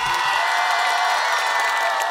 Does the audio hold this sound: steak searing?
no